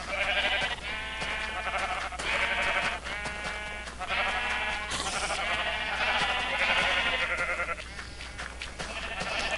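Sheep in a Minecraft barn bleating repeatedly, several overlapping nasal bleats in quick succession, close and clear throughout with no talking.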